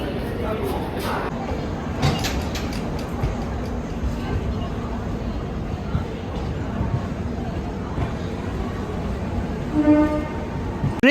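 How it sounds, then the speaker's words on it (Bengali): The 22201 Sealdah-Puri Duronto Express pulling out of Sealdah station, a continuous rumble of wheels and carriage noise heard from on board with some knocks, and people talking over it. "22201 শিয়ালদহ পুরী দুরন্ত এক্সপ্রেস তার নির্ধারিত সময়ে শিয়ালদহ স্টেশনকে আজকের মতো বিদায় জানিয়ে রওনা দিল"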